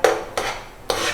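Mustard seeds and green chilies are stirred in a frying pan, producing three close, scraping rasps of a spoon against the pan at uneven intervals with no talking.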